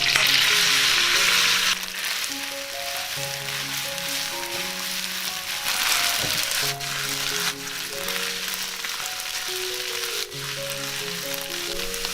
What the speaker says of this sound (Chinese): 接着来起锅热油。 把河粉倒进来，摊平